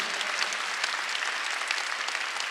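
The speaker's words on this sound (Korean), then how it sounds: "박수를 하세요" Applause from a church congregation during a Sunday worship service, a steady dense wash of many hands clapping throughout with no talking over it.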